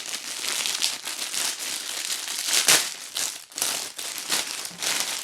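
Close, continuous crinkling and rustling of the clear plastic bag packaging of a mini panettone being handled, with irregular louder crackles and no speech.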